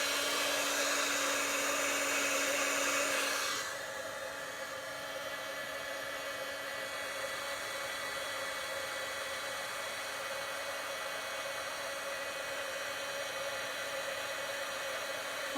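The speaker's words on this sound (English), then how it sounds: "Roseanne, just talk amongst yourselves while I use the heat gun" A heat gun blows hot air in a steady broadband whoosh with a faint whine, louder for the first few seconds and then continuing at a lower, even level throughout, with no talking.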